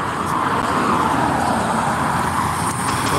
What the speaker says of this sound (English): What's this? Tanker truck.